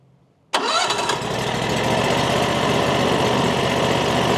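Frontier OS35 sawmill engine cranks and catches after a short quiet moment, then settles into a steady, close, mid-pitched running rumble.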